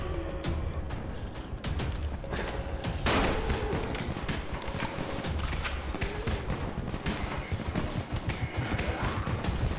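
Firecrackers going off in the video game Dying Light, a fast, dense string of sharp pops and cracks that keeps going through the whole stretch at moderate loudness.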